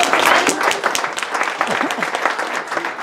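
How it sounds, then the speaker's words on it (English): An audience applauding at a tech event, a burst of many hands clapping that starts strong and stays lively, with some voices mixed in. "So you guys, a big round of applause, please,"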